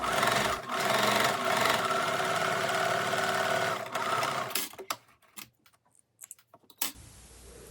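A sewing machine runs a fast, steady stitch around the edge of sweatpants at about 0.3 mm, loud and close, then breaks into short bursts and stops near the end.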